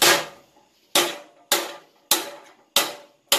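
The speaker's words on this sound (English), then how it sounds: "The metal is not flat, so I'm just gonna hammer it flat." A hammer strikes bent metal to flatten it during repair work on a 7.3L Ford Excursion/F-series truck: six sharp, loud metallic blows at a steady, slightly uneven pace, each ringing briefly before the next.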